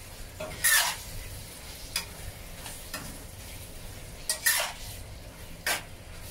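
Onions being stir-fried into a pot of curry beef brisket with potatoes: scattered scraping and clinking of a utensil against the pan over a low sizzle, with several sharper knocks, no talking.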